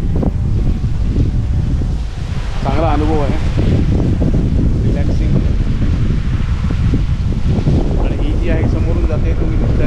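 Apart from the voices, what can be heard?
strong wind on a houseboat in the Alleppey backwaters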